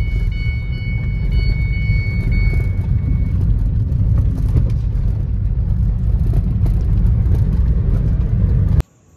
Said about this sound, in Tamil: இந்த ஃபோர்ட் ஆஸ்பேரை வந்து பார்த்தீங்கன்னா நான் வண்டி ட்ரையல் பார்க்குறேன்